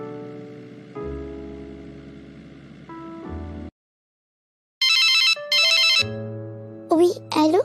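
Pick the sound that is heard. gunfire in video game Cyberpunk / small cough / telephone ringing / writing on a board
telephone ringing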